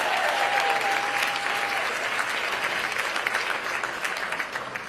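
Loud, continuous applause from a large audience at a political event, many hands clapping in a dense wash that holds steady and eases slightly toward the end.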